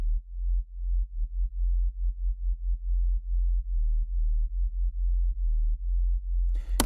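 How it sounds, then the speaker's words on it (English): Synthesized deep sub bass wub, a very low sine-like tone pulsing in a fast, uneven rhythm, loud and alone, ending in a brief brighter burst. "trust me, there's some deep wub down there"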